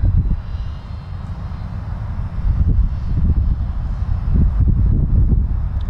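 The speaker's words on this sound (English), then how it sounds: "The wind is just bad again today." Strong outdoor wind buffeting the microphone during an FPV drone flight, a loud continuous low rumble with gusty surges that grow heavier toward the end, no talk.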